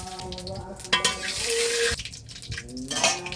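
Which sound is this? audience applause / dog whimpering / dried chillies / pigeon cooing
dried chillies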